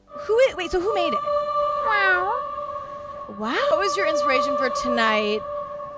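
A woman imitates a cat with several drawn-out, wavering meows in two bursts, a steady tone running underneath, close and fairly loud.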